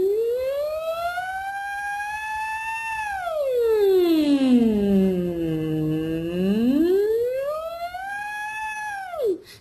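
A voice imitates a siren during a singing warm-up, gliding smoothly up high, sweeping down low, then rising again in one long, sustained wail.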